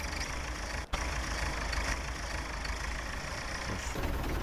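A farm tractor engine idles with a steady, broad rumble throughout, fairly close, broken by a brief clunk near the start, with no talk.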